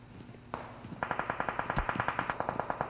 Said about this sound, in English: I heard some gunshots in that direction.